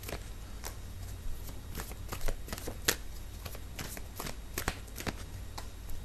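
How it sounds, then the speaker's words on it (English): Tarot cards are shuffled and pulled close up, quick papery riffles and soft flicking snaps in an irregular flurry over a low background hum, with no talking. "I need to pull out a few more cards."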